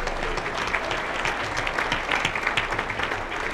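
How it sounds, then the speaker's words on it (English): A standing audience at the 2019 State of the County Address gives itself a round of applause, a dense, steady crowd clapping that stays even and fairly loud throughout, with no voices over it. "Give yourselves a round of applause for hanging out for all this time."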